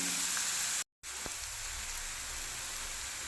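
Onions browning in a pan give a steady, soft sizzle with a brief dropout partway through, recorded fairly quietly.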